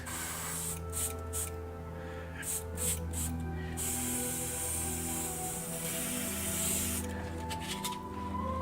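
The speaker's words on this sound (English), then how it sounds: "Do you love airbrushing with white inks, guys?" An airbrush sprays white ink over miniature lava terrain for a Chaos Marine tabletop scene. Close, quiet hissing bursts start and stop in short pulses, with a brief pause mid-way, over a faint steady hum.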